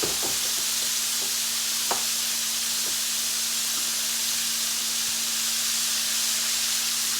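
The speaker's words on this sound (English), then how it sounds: "Okay, so see, I've just got it frying." A steak frying in a pan gives a steady, close sizzle and hiss, with a few light clinks and taps of utensils near the start.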